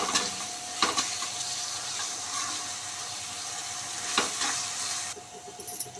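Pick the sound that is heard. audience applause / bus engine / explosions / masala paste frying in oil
masala paste frying in oil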